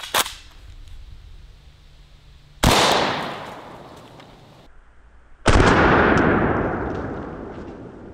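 Three loud, sharp rifle shots from poison bullets fired at watermelons crack outdoors, spaced a couple of seconds apart, each followed by a long echoing decay.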